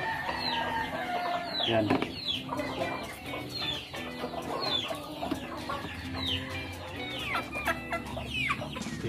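Pet chickens clucking in a backyard coop while being fed moringa juice, with repeated close clucks, squawks and a rooster's crow amid speech, continuing throughout.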